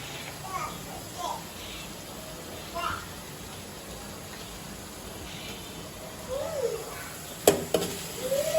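Ginger garlic paste hits hot oil while cooking kaju paneer, giving a steady low hiss of frying with a few stirring scrapes and clinks near the end, and a voice talks over it.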